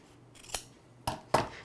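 Scissors trim the fabric seam allowance of a bag lining: three crisp, close snips, one early and two quick ones near the end, in an otherwise quiet room.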